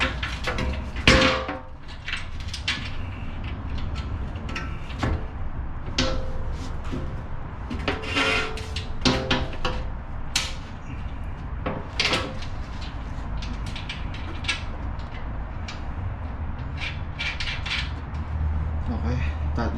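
Metallic clanks and knocks while bolting an aftermarket skid plate onto a Toyota RAV4, scattered bangs of steel parts and tools at close range with some low talk in between.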